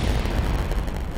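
Explosions in the video game Kerbal Space Program make a dense, rumbling low boom with crackling texture. It stays loud for just over a second, with no voices.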